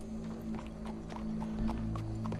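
Horse hooves clip-clop at a steady walking pace in Red Dead Redemption 2, fairly quiet and mid-distance over a low hum of game ambience, with no talking.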